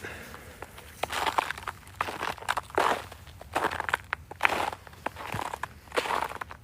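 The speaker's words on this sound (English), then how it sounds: "the ground is crunchy" Footsteps crunch over cold, frozen ground, a steady walking rhythm of close, crisp crunches with short pauses between strides.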